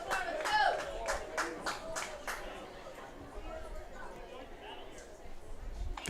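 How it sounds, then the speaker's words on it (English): Baseball fans at a Cubs versus Harrisburg Woodies game break into a short run of rhythmic clapping with some cheers, moderately distant, fading into crowd chatter and hubbub. "Some claps, some cheers."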